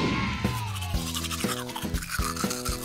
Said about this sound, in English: What do we brush your teeth with?